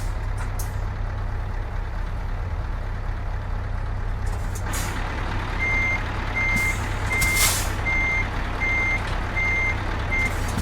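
A truck in a truck simulator game reverses while idling, its backup alarm beeping steadily and evenly over the constant low engine rumble, with a sharp air brake hiss partway through.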